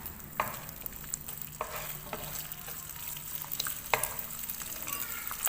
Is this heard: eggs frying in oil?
yes